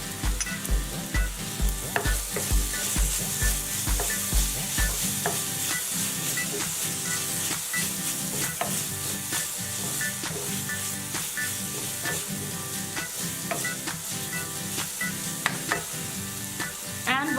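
Vegetable kurma with turmeric cooks on high heat in a pan, a steady loud sizzle and frying hiss with stirring scrapes throughout, a low rhythmic thumping under the first few seconds, no voices.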